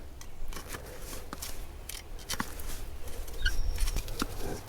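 A 2-inch pipe is cut off on a skid steer engine swap job, quick repeated snipping and scraping strokes up close, with no talk.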